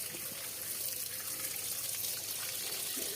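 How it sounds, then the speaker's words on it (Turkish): Sour cherries being rinsed under a strong, steady stream of tap water, a continuous close gushing splash with no breaks and no talking. "Hemen bol suda yıkıyoruz."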